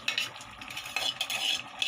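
Mashed gongura leaves are stirred into mutton curry in a pot, making a brief, close scraping and rustling with soft clinks as the spoon works through the thick gravy.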